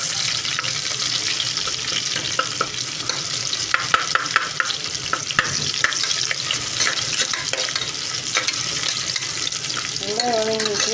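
Onions sauté in hot oil in a pan for chicken kulambu, a continuous loud sizzle broken by repeated scraping stirs of a spoon, with a brief clatter near the end.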